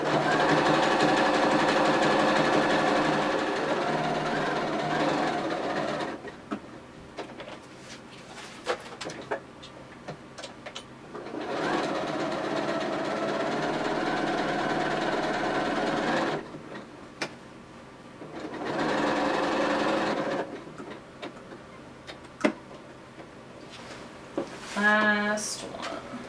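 A sewing machine stitching a patch onto fabric, heard close as a steady mechanical whirr in long runs of several seconds, broken by short pauses while the work is turned, ending with a brief rattle.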